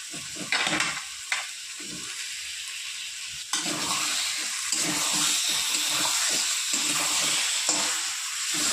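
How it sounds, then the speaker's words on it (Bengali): Boiled potatoes are stirred into spiced oil in a pan for a potato, cauliflower and egg curry, with a steady close sizzle and repeated scraping strokes of a spoon. "ভালো করে মশলার সাথে আলুটা আমি কষিয়ে নেব।"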